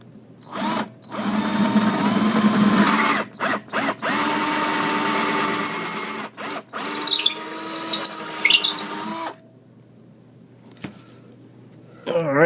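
Power drill boring into an acoustic guitar body to widen the hole for a pickup: several whining bursts broken by short pauses, ending with a faint clink, close and loud.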